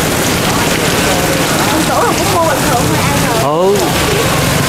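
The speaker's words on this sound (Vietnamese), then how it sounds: "Tự nhiên nó mưa to thì không nói gì, nhưng mà nó gió nó mưa quật lên nữa." Heavy rain driven by strong wind roars steadily and loudly throughout, with a voice talking partly over the downpour.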